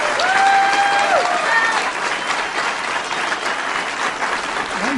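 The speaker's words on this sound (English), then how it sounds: "Go ahead, Republicans, start cheering." Crowd at a Republican rally cheering and applauding, a dense, sustained wash of clapping and shouts with a few whistles near the start, steady throughout.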